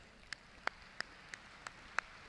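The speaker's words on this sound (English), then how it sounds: "An overhead clap for Stand By Me first." A school assembly audience in a prayer hall giving an overhead clap: evenly timed sharp claps in steady unison, about three per second, sounding somewhat distant above a quiet room tone.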